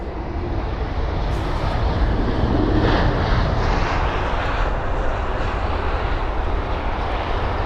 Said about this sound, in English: We've got the Lufthansa A320neo from Frankfurt.